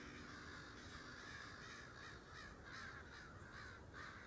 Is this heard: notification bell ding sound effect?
no